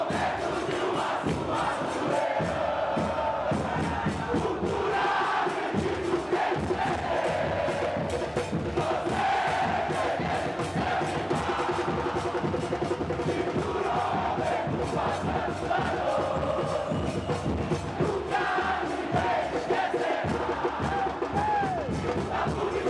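A football stadium crowd chants loudly against rival clubs, a dense, continuous roar of many voices with rhythmic surges and shouted cries, close and sustained throughout.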